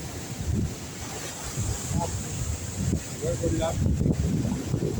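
Stormy wind roars and buffets the microphone while rough sea waves crash and surge continuously nearby at Harihareshwar beach in the monsoon.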